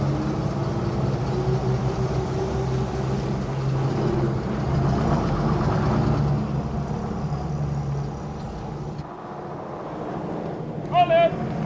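A train pulling into a station, a steady rumbling roar of engine and wheels that fills the scene, with voices talking over it and a brief high squeal near the end.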